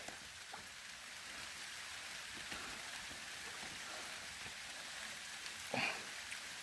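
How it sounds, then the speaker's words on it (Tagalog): Steady rain pattering on surfaces, a dense continuous hiss of drops with a few louder splashes near the end, no voices. "Umuulan."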